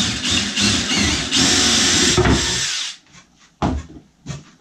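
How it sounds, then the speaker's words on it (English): A piece of plywood falls out of place, giving a loud clattering wooden knock and scrape up close, followed by a few shorter, quieter bumps as it settles, with no talk. "my plywood just fell out"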